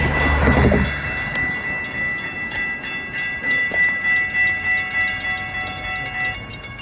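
An FEC Railway train rumbles steadily with rhythmic clacking of wheels over rail joints, a faint horn-like tone held above, the rhythm quickening slightly as it picks up speed.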